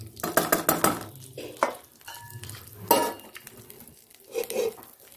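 Cumin, chili and bay leaf hit hot oil with a bright, crackling sizzle, mixed with clattering strokes of a spoon against the pan, close and lively with uneven bursts.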